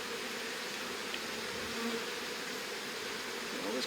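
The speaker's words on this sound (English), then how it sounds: "So these bees were doing great." Steady, dense drone of honey bees buzzing around an opened hive during a post-winter inspection, a continuous close swarm hum with no talking.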